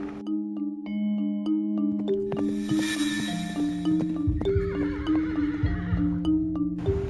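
A horse neighs loudly in a long, quavering whinny while hooves clip-clop around it, followed by further snorting and shaking whinnies, close and prominent with no voices.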